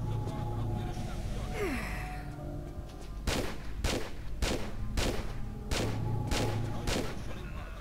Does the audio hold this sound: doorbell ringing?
no